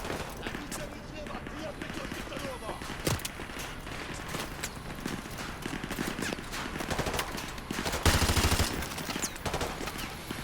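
Gunfire in Call of Duty Modern Warfare 2: sharp shots and bursts, with a louder burst near the end, over constant game noise, footsteps and ambience.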